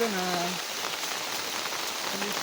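Steady rain falls at night over a small stream during the first monsoon rains, out crab catching, a constant close hiss of drops with a short tonal call at the start and again near the end.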